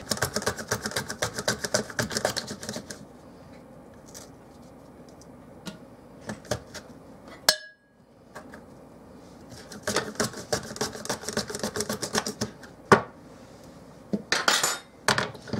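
Potatoes are sliced on a mandoline in rapid runs of crisp, close clicking strokes, broken by quiet pauses and a few isolated clacks and knocks.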